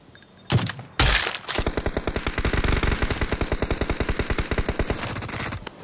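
Enemy gunfire in a robot-event shooter game: a couple of sharp blasts followed by a long, steady, rapid automatic burst, loud and close, with no talk over it.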